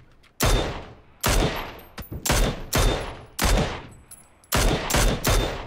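Shooter-game gunfire: a rapid series of loud, sharp shots and short bursts, about ten reports spaced irregularly over six seconds, close and clear with no talk over them.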